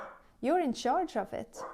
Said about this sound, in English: He's just barked because someone is coming in here.